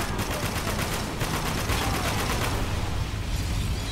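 Continuous turret fire in Spec Ops: The Line, a dense, loud, unbroken roar of rapid shots with mechanical rattling and no pauses.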